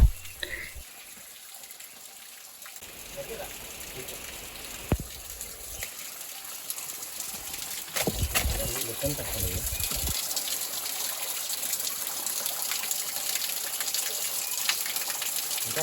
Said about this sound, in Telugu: ఇక్కడ ఒక పెద్ద బండ ఉంది కదా దీంట్లో నుంచి వాటర్ వస్తున్నాయి